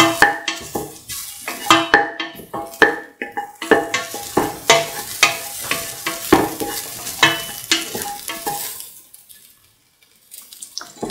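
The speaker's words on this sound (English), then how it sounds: "Keep on sauteing." Sauteing in a pan for sweet coconut milk wheat soup: a spoon scrapes and stirs in quick, irregular strokes over a soft sizzle, loud and close, before fading to near silence at the end.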